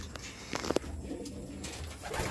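Racing pigeons coo in their loft after a 100 km training flight: soft, throaty cooing repeats close by over a steady background hum, with a couple of sharper calls in the middle.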